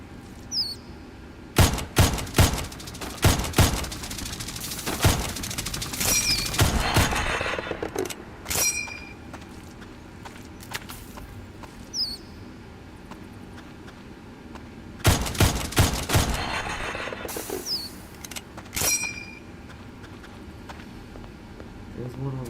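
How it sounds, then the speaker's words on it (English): Shotgun and pistol fire in a video game: two dense bursts of sharp, loud shots, one near the start and another around the middle, with scattered single reports, clicks and game effects in between. "I do think the shotgun and the pistol are better in here, but God, it uses a lot of ammo."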